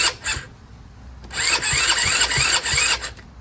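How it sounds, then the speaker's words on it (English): Chinese 125cc ATV quad engine cranking after its solenoid is jumped with a wrench: a brief click, then about two seconds of fast, rhythmic starter churning up close, stopping without the engine catching. "Let's just jump it and see if it cranks."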